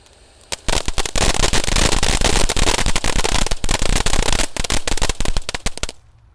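A Roman candle firework goes off outdoors, its shower of sparks shooting about three meters high, with loud, dense crackling and sputtering for roughly five and a half seconds before dying away.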